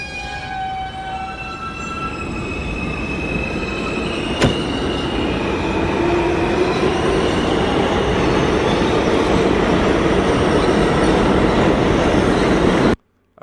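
A Minecraft subway train set off by a command block rolls past alone and steady, its wheel rumble and rail clatter loud throughout, with a sharp clank near the middle and a few high squealing tones early on, stopping abruptly at the end.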